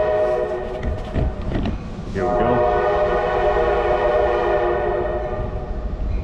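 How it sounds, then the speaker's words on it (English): A freight train rolls past close by with its horn sounding in long steady blasts over a continuous rumble of wheels, recorded from a truck hauling a hazmat load of flammable paint; someone speaks briefly at the start. "Train coming."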